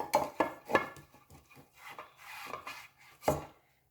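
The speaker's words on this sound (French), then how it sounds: "je mets du beurre partout" Butter is rubbed around the sides of a baking dish for a lemon pound cake, a series of short scraping, rasping strokes close up, several sharp swipes with quiet gaps between them.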